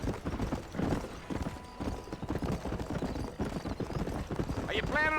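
A horse trots in the Western video game Red Dead Redemption, its hooves giving a steady rhythmic clip-clop alongside a brief whinny, with voices talking over it.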